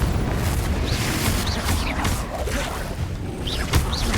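Fiery spell blasts from the Hogwarts Legacy game, a dense continuous roar of rumbling booms and crackling bursts layered with whooshing swells, loud and sustained throughout with a slightly sharper burst near the end.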